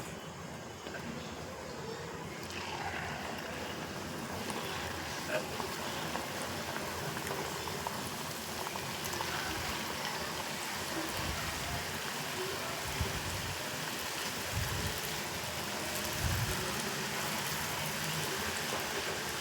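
Murukku frying in hot oil is shaken in the pan, giving a dense, steady bubbling sizzle with a rain-like crackle that swells at times, close and continuous throughout.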